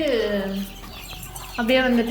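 Close, loud clucking from a country chicken on a farm, a couple of drawn-out squawky calls with a short pause between them.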